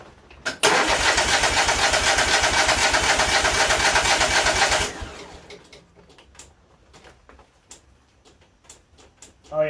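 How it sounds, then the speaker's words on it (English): A Kohler garden tractor engine that had been on fire cranks loudly for about four seconds and then stops. A series of sharp, separate fuel-solenoid clicks follows, fainter and irregular over a quiet background. "Oh yeah, I got my fuel solenoid now."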